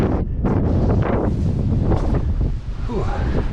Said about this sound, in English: It's windy in here.